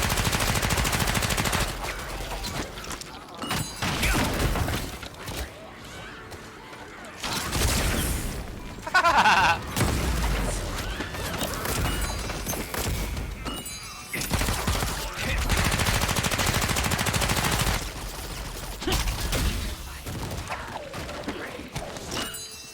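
A stun gun fires repeatedly in the video game Lost Ark, as loud bursts of rapid crackling fire come in several long volleys separated by brief lulls amid game effects.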